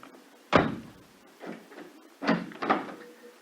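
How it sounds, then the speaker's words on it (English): A wooden door is bolted shut in a series of knocks and clunks: one sharp bang, then a softer rattle, then two firm thuds close together, all close by. "Excuse me if I bolt this door again."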